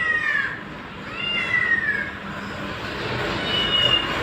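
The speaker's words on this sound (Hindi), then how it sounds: "फ़ोन में चलाई बिल्ली की आवाज़" Recorded cat meows played back from a phone, several drawn-out mewing calls at intervals over a steady background rumble, moderately loud with no talking.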